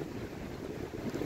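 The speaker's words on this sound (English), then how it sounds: "It's so windy as well today" Strong wind buffets the microphone beside a river on a blustery day, a continuous low roar with no voices.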